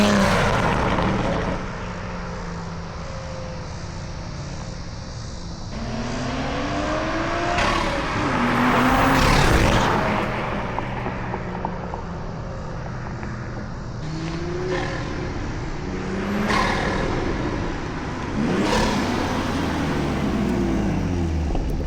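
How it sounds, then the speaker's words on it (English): Toyota Supra with a six-speed manual and an ARMASPEED intake on a night drive, the engine rising and falling in long revving surges with loud induction roar over steady road noise, no voices. "Guys, this intake sounds sick. It's so good to have some noise in this car."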